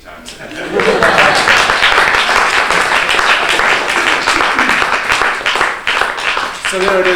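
A theatre audience claps loudly and continuously after a brief quiet start, with cheers and voices mixed in and the applause thinning slightly toward the end.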